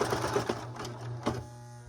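A serger sewing machine strains through thick denim, its motor humming steadily with a few heavier rhythmic thumps as the needle punches the fabric, heard up close and alone.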